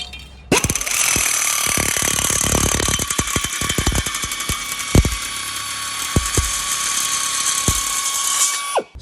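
A power shear cuts long sheet metal with a sustained loud mechanical whine, punctuated by sharp clanks and snapping cuts throughout, then stops abruptly.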